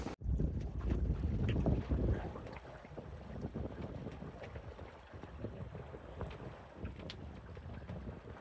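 Wind rushes and buffets loudly across the microphone outdoors on a sailboat at anchor, a 26-knot gust strongest early on, then settles into a steady breezy roar.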